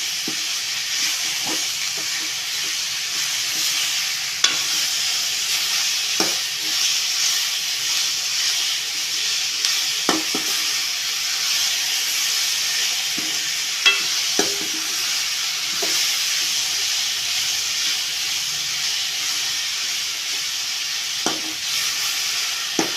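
Onions and three chopped medium tomatoes frying in a pan for a Kerala-style egg roast: a steady, close sizzle throughout, broken by sharp clinks and scrapes of a spoon stirring, with no talk.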